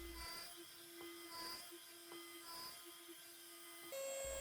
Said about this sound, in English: I set my cutter for a shallow first pass